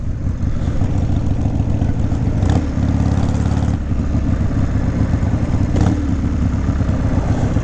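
A 1997 Harley-Davidson Sportster XL1200S is ridden with a loud, steady, deep engine rumble that lasts the whole clip and two brief surges where the throttle changes.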